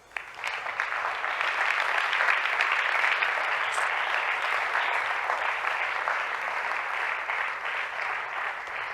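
An audience at an awards event claps steadily for nine seconds as guests walk onto the stage. The applause is loud, sustained and even, and swells slightly after the first couple of seconds.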